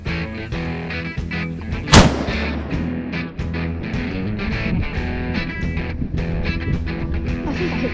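A .243 rifle being sighted in for Pennsylvania rifle season fires a single sharp, loud shot that stands out over steady background music.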